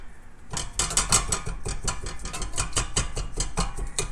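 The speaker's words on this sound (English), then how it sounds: "Ah, smash it, smash it. Just get all that pulp pulped." Rose hip pulp is mashed and macerated by hand, a quick run of wet squelching knocks and clatters repeating densely for a few seconds, close and fairly loud, with no talking.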